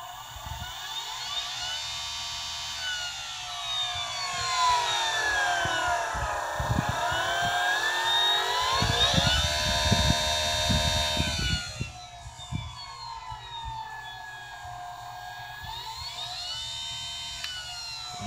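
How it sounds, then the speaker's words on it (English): An Ezip E400 electric scooter motor overvolted to 36 volts winds up with a high, rising and falling whine that climbs, dips and climbs again over a steady low buzz, close and continuous throughout. "I'm going to go ahead and wind up the motor."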